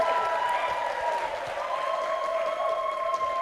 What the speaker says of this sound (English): A big applause for...